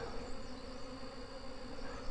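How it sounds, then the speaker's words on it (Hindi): Honey bees swarm around a hive kept safe through the rainy season, producing a dense, continuous buzzing drone that stays close and steady throughout with no voices. "जो बाहर से मधुमक्खी आ रही है ना, वो आप देख सकते हैं यहाँ पर,"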